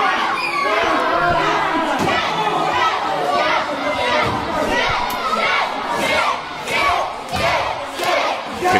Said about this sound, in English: You can hear the UBW fans here in Stotfold. Absolutely thunderous for Sunset Skip.